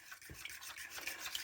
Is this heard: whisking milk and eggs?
yes